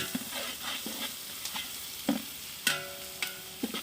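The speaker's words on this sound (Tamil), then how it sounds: "வெங்காயத்தை நல்லா திருப்பி விட்டுக்கணும்." Onions frying in a pan for country chicken biryani sizzle steadily up close while a utensil scrapes and knocks against the pan in irregular stirring strokes, with sharp clicks standing out.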